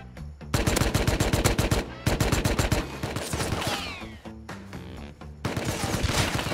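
Loud, rapid automatic gunfire in the survival game Rust comes in several long bursts of sharp rattling shots with brief pauses between volleys, close and dominant.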